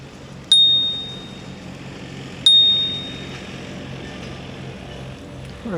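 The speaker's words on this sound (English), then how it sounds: "Ring the bell" A bicycle bell on a riverside cycle ride rings twice with bright, close pings, each ring fading slowly, the second about two seconds after the first, over steady wind and road noise.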